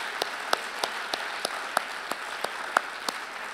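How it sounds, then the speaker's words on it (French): Sparse, scattered clapping at a French congress on pleasure, a few hands striking in an irregular rhythm, fairly faint and distant in a quiet hall. "On peut l'applaudir."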